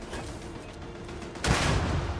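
Gunfire in the space game Starfield, a faint patter early on followed by a louder, sustained burst of shots partway through, heard at moderate distance.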